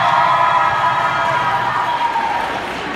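A crowd of college students at a Social Work Day gathering at the state capitol cheers for their school during a roll call, a steady, dense roar of many voices sustained throughout.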